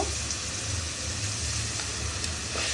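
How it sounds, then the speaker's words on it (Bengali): Garlic paste sizzling steadily in hot oil with cardamom, cinnamon and bay leaf, a continuous close frying hiss with no pauses or talk. "রসুন বাটা দিয়ে আমি একটু ভালোভাবে লাল লাল করে নেব।"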